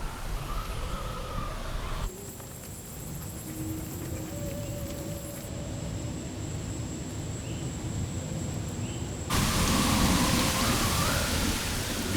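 Steady rain pours during a seasonal storm in Puerto Rico, a dense, even hiss that softens for a stretch mid-clip and then swells louder near the end, with no voices.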